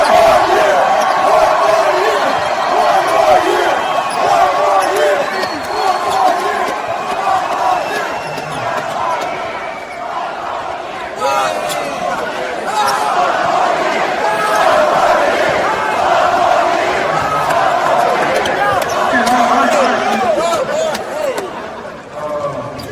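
A crowd at a Houston basketball senior night cheers and roars in a big arena, sustained and swelling, with voices and talk mixed through the noise.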